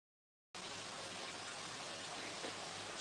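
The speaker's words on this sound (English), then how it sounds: "I'm just going to turn the shower off while we do this. It's quite noisy." A shower runs in a koi shop, a steady broadband hiss of spraying water that starts abruptly after a brief silence and continues evenly, fairly quiet and unbroken.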